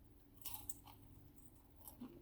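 Crunchy restaurant-style chips seasoned with ground garlic and parsley are chewed up close, with crisp bites and crunching over a quiet background.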